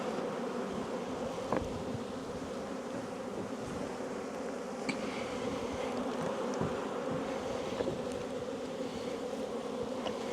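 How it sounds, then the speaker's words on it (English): Steady, continuous buzzing of many bees close by, a dense droning hum with occasional brief louder passes, no voices. "I got a whole handful of bees."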